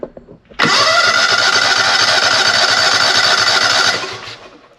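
A racing lawn mower fitted with a new engine cranks over loudly and steadily for about three seconds, a continuous whirring starter drone that tapers off at the end, with no talk over it.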